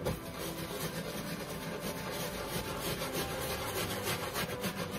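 Stiff brush scrubbing dirty Nike shoes, a steady rapid back-and-forth rubbing that runs continuously and close up with no talk.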